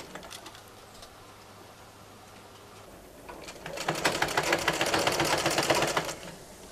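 A sewing machine stitches kameez fabric, quiet handling at first, then a rapid rattling run of stitches for a few seconds before stopping.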